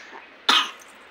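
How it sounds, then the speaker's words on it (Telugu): A single sharp, close cough from one person, standing out abruptly against a quiet background. "విపరీతమైన దగ్గు"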